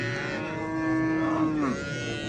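Cattle at a livestock market in Kyrgyzstan give a single long, loud moo that holds steady and then bends downward, standing out over a busy background of market noise.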